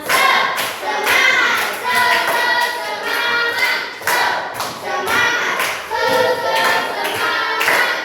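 A school class does rhythmic spirit claps, loud repeated bursts of many hands in a counted pattern, mixed with children's voices chanting along.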